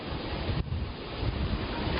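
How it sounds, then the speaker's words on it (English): Strong storm wind buffets the microphone in a continuous roar on the Florida coast at Sebastian, with surf churning underneath and brief dips and swells in intensity. "the wind has picked up"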